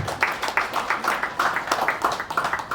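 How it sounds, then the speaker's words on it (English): A live audience at a Mumbai cricket event applauds the women's cricket team, a steady patter of many hands clapping in quick uneven rhythm, fairly close and sustained through the moment without speech. "a big round of applause for our women's cricket team today"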